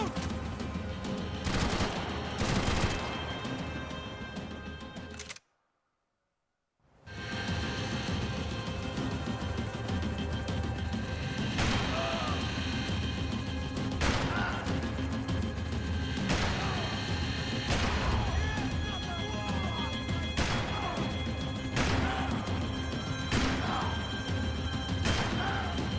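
Scattered gunshots and automatic fire in the video game Max Payne 3, repeated sharp cracks against a dense action soundscape, with a brief drop to silence partway through.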